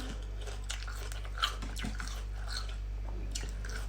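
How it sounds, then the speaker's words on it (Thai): Someone biting and chewing crunchy grilled butter pork belly, a series of close, soft crunches and mouth sounds over a low steady hum. "ก่อนอื่นขอกิน หมูสามชั้นนะคะ"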